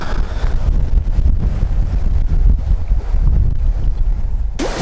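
Wind buffets the microphone in loud, low gusts for several seconds on a riverbank on the Segezha River in Karelia, with a brief higher sound at the very end.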